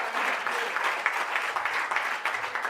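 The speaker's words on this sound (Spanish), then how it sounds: "Fuerte ese aplauso a Él." Congregation applause during a church sermon, a brief, moderately loud burst of rhythmic group clapping at middle distance with no voices over it.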